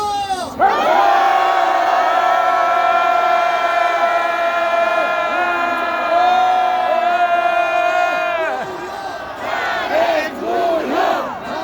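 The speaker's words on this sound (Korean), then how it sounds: "우리 완전히 한번 사랑의 표시로 함성 5초간 발성" A large rally crowd outside the presidential residence in Hannam-dong lets out a loud, sustained roar of shouting and cheering. The roar holds for several seconds, then breaks into scattered whoops and yells.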